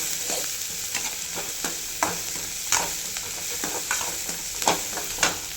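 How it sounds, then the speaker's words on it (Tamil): Onions and green chilies frying in oil make a steady, close sizzle, cut by regular spatula strokes roughly every half second that scrape and tap against the pan. "வெங்காயத்தை நல்லா வதக்கணும். பச்சை மிளகாவும் நல்லா எண்ணெயில் வெந்திருக்கணும்."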